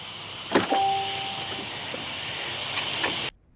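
The power windows of a Mercedes-Benz C300 4MATIC close automatically through keyless entry, starting with a click and then a steady electric motor hum that runs for a few seconds before cutting off.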